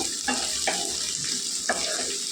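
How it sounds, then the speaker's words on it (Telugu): Crushed garlic, four or five cloves, sizzles in hot oil in a pan for cauliflower fry, a steady crackling hiss with a few sharp spatters and stirring scrapes. "ఎల్లుల్లిపాయలు దంచి వేసుకున్నానండి, 4-5 రెమ్మలు. కొద్దిగా వేగాలండి"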